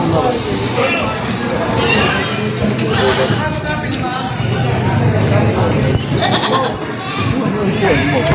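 Goats bleat repeatedly amid a busy, noisy outdoor goat market, with people talking over and between the calls.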